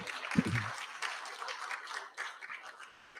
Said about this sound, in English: a very big round of applause for all these children